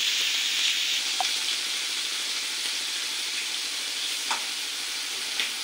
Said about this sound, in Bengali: এই দেখুন চিংড়ি মাছটাকে ভাজি ভাজি হয়ে গেছে।